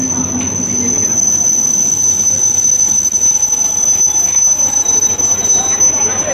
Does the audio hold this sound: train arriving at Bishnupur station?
yes